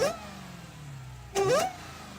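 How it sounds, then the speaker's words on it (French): A supercharged Dodge Challenger SRT V8 idles with a low rumble, then gives one sharp rev that rises and falls with a supercharger whine before settling back to idle. "une voiture où le bruit se remarque plus comme la Dodge Challenger SRT"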